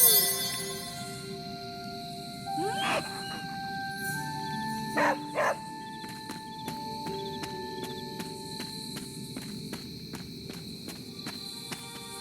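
A dog in the video game Marvel's Midnight Suns gives a few short barks amid faint crickets, footsteps and soft game ambience, with scattered small clicks and tones around it.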